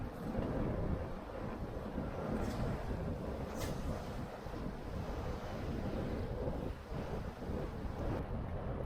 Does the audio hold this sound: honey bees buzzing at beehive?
no